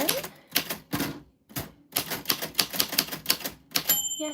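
Rapid keystrikes on a manual typewriter come in close, loud bursts, pausing briefly before a second run of clacks, then ending with a ringing carriage bell.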